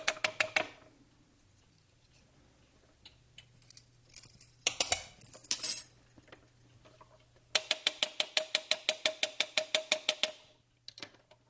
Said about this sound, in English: I'll put the rest of it back into the jar